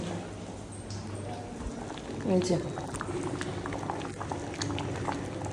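Khichuri of rice and lentils bubbling in a pot, a soft continuous boiling burble with small pops, faint and close, while a voice is heard talking in the background.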